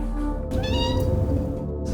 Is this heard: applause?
no